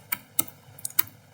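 Four sharp, isolated keystrokes click on a computer keyboard while a command is entered, close and crisp against a quiet background.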